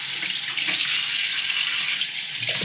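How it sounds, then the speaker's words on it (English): Tap water runs steadily over a freshly cut kokanee fillet being rinsed at a sink, a continuous close hiss of flowing water with faint splashes and no talking. "Give this a little rinse"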